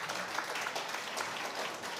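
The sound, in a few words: audience applause at a civic dinner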